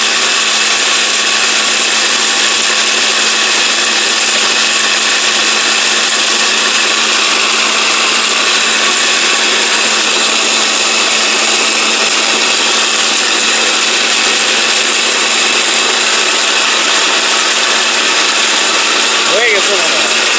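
A Miyako 1400-watt blender with a copper motor running at full speed: a loud, steady, high-pitched whir that stays constant and unbroken throughout, close to the listener.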